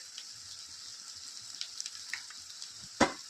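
Chopped spring onions sizzle steadily in a pan after turmeric and salt go in, with soft stirring scrapes and a sharper clack of the spoon near the end, no talking.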